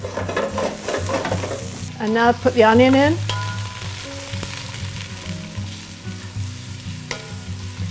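Garlic and onion sizzle and fry steadily in a hot pan for Swedish spinach soup, close up, with a short spoken remark partway through and occasional stirring.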